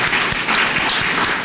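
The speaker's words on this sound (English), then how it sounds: "So everybody give Adam a round of applause" Audience at a keynote speaker event clapping, a short steady burst of dense applause from a crowd.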